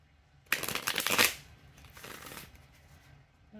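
A deck of cards is shuffled in one brief, crisp riffle close by, followed by a softer second riffle, with no talking.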